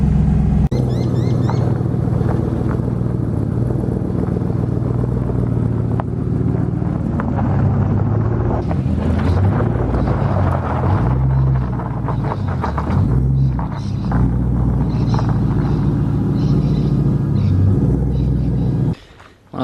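A Nissan S13 engine, just started after sitting unused, runs with a loud steady rumbling idle close by in a garage, the revs wavering slightly before cutting off at the end.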